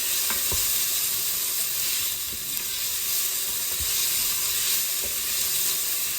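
Steady, loud sizzling of onions frying in a hot pan, a continuous crackling hiss with occasional pops and no voices.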